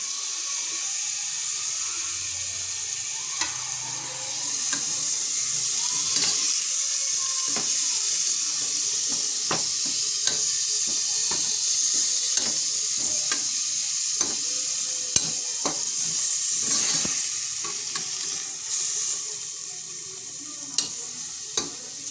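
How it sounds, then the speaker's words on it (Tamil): Chopped tomatoes sautéing in a pan with a pinch of salt for a fenugreek rice dish, a steady close sizzle with frequent stirring clicks and scrapes, no talking. "இப்போ இது கூட கொஞ்சம் ஒரு பிஞ்ச் ஆஃப் சால்ட் நம்ம ஆட் பண்ணிவிட்டு இந்த தக்காளி நல்லா வதங்க விடலாம்."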